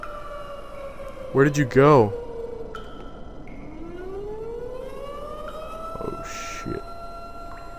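Siren in the horror video game Affected: The Asylum, a long tone slowly rising and sweeping through the middle, steady and moderately loud, while someone talks briefly early on and other game noises sound around it.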